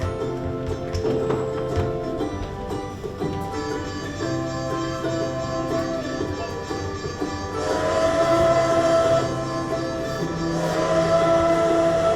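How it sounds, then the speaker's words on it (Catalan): A steam train rumbles and clanks along, with drawn-out whistle-like tones sounding over the steady rolling noise. "Pujarem en un tren de vapor."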